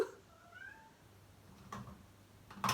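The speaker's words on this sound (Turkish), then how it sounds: "Miyavlama hiç." A cat meows faintly in a quiet kitchen during Sunday breakfast preparation, with a few soft wavering calls and a brief louder sound near the end.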